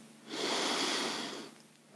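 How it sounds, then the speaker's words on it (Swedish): A single long, audible inhale through the nose, close and soft, swelling for about a second then fading into quiet. "Andas in."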